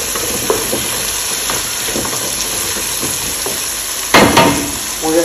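Achiote, onion, garlic and carrot frying in a pan, a steady close sizzle with occasional scraping stirs and a louder burst of crackling near the end, no voices.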